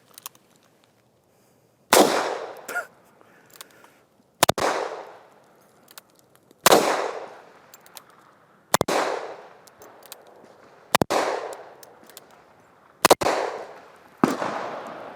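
Ruger Super Blackhawk .44 Magnum revolver fired outdoors: six or seven loud single shots spaced about two seconds apart, each sharp crack followed by a long rolling echo, with faint clicks of the action between.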